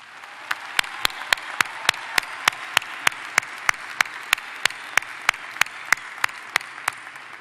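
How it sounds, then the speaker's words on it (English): Applause for military veterans at a university commencement ceremony: sharp, evenly spaced claps ring out close and loud in a steady rhythm over a low crowd wash. "Please join me in a round of applause for their service to our great country."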